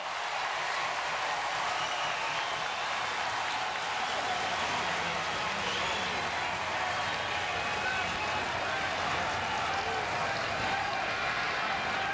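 A packed college baseball stadium crowd at an LSU versus Texas game roars in a steady, broad wash of cheering and noise, constant and fairly distant.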